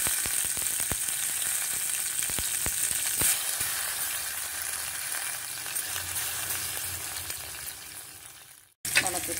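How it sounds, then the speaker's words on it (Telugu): Onions and fenugreek leaves frying in a pan for a simple vegetarian lunch, a close steady sizzle with scattered sharp crackles and stirring clicks early on, then a brief cut before the sizzle resumes. "మెంతి అంతా మంచిగా ఫ్రై అయినాయి."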